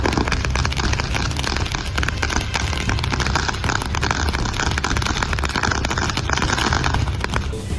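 Firecrackers explode in a dense, continuous barrage at a Vijayadashami celebration outside a district collector's office, loud crackling bursts overlapping without pause throughout.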